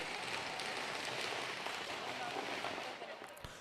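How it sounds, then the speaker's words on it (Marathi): Firecrackers set off by spectators at an outdoor cricket match, a dense continuous crackle of rapid bangs that stays loud throughout before easing slightly at the end. "फटाके वाजवतं का प्रेक्षक पळवत आहे."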